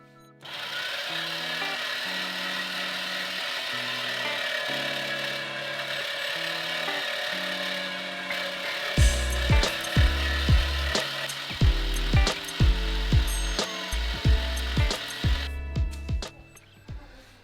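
A mincing machine grinding a pound of onion runs with a steady mechanical whir, then turns into a rhythmic series of heavy thumping, cranking knocks for the last several seconds, close and alone.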